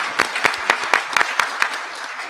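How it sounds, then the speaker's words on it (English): An audience at a gubernatorial candidate forum on economic empowerment gives a brief round of applause, fairly soft, with a few sharper claps standing out in an uneven rhythm. "Let's give him a round of applause."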